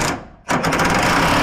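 A Hyper Tough power tool works a bolt on a Jeep WJ Grand Cherokee gearbox, buzzing loudly and close, cutting out briefly and then ramping back up into a steady rattling whir.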